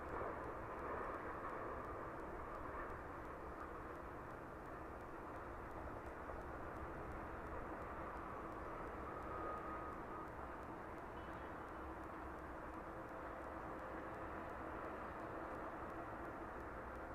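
A Ryanair jet bound for Barcelona climbs away from East Midlands Airport in the evening, its engine roar a broad, steady rumble that holds at a distance without fading sharply.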